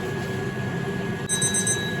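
A sous vide cooker heating water for a frozen beef joint gives steady high electronic beeping tones partway through on reaching 71 degrees, over a constant appliance hum, close and fairly clear.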